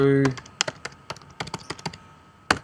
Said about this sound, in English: Just type in